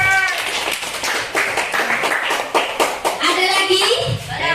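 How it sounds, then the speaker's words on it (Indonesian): Scattered clapping from a small group, uneven and brief, mixed with a voice and classroom chatter. "tepuk tangan untuk Eno."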